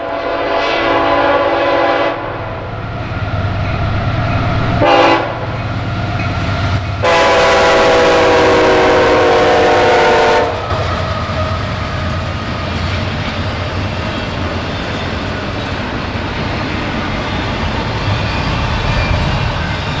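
CSX and NS freight trains run along the Lake Erie coast in northwestern Pennsylvania, with a loud rumbling pass, a couple of sharp horn blasts, and then a long horn blast before the steady roll of railcars continues.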